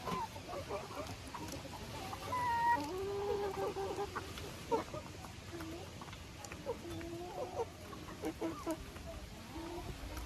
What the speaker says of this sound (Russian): курица какая-то кричала